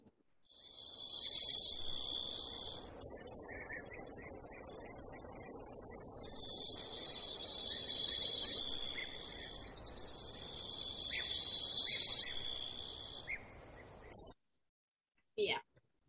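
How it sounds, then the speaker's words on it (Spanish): A grasshopper makes two kinds of chirps: long, high, buzzing trills that alternate and overlap, clear and close, then stop before a couple of short clicks. "Un saltamontes que hace esta diferencia, o sea, estos dos tipos de chirridos, digamos."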